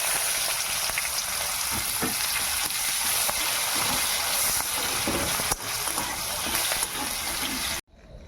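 Chopped onion frying in hot oil with chilli tempering for a Bengali bottle gourd and prawn dish. A loud, steady, dense sizzle runs close and continuous, then cuts off abruptly near the end.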